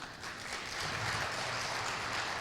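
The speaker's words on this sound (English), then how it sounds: "Please, a round of applause to Captain Mish'al." Audience applause at a hangar talk event, a steady dense wash of clapping that swells slightly after the start and holds at full level throughout, with no voices over it.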